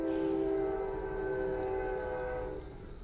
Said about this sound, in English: Train's pretty active today.